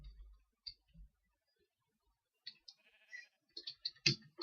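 Sheep in the Minecraft video game give a few short bleats at the start, then some clicking and keyboard-like tapping follows later in the clip. The sounds are quiet and spaced, with gaps of near silence between them.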